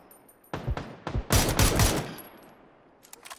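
Gunfire from the battle royale game PUBG: a close, loud stretch of rapid shots with dense bursts mid-clip, then tapering to a few faint distant pops.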